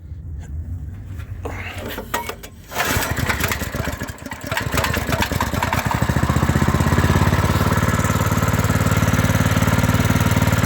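A small walk-behind tractor engine sputters and catches, then settles into a loud, steady running drone with a rapid mechanical chug, close by.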